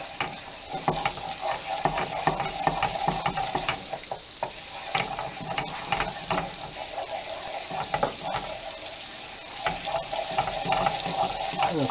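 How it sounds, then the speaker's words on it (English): Butter and olive oil foaming and sizzling in a pan while sole meunière is being prepared, a steady dense crackle running throughout with occasional stirring scrapes, close and moderately loud, with no talking. "Now we want to keep doing this until the butter stops foaming."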